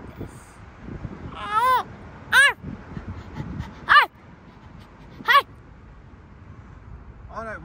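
A dog gives several separate high, whining yelps and short barks spaced a second or so apart, each call with a rising, tonal whimpering quality, heard fairly close with a faint background underneath.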